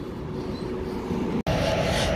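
The Santragachi–Yesvantpur summer special passenger train rumbles past steadily and close on the wrong line, a continuous heavy roar of wheels and carriages with a brief dropout near the end.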